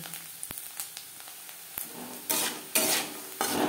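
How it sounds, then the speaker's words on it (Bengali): Winter vegetables for Bengali labra fry in a pan with a little turmeric and salt until reddish; light stirring clinks come first, then loud, close sizzling bursts flare up and fade with no talk. "লালচে করে ভেজে নেব।"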